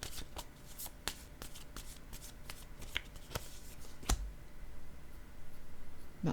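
Someone shuffles a deck of tarot cards close by, producing a steady run of crisp riffling snaps at a quiet, even pace.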